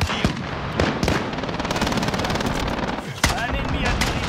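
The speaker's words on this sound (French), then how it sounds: "Attention, je tire." Automatic weapon fire in Call of Duty: Modern Warfare, a sustained loud rattling burst of rapid shots with sharp cracks at the start and a heavy blast near the end, over game ambience.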